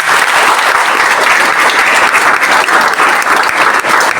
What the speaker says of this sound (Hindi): जोर से ताली मारो।